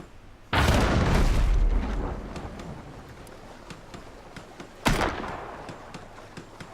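Ship cannons fire in the pirate naval game Abandon Ship: two heavy booming volleys, the first long and rolling, the second a sharper blast a few seconds later, with quieter crackling between.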